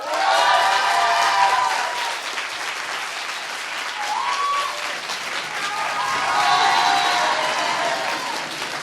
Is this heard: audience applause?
yes